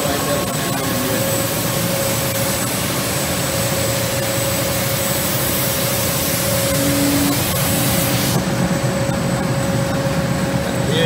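A GECAM 135 RXR deburring and finishing machine runs its white and fine white belt sanders, giving a steady, loud industrial whir with a constant mechanical hum that holds level throughout.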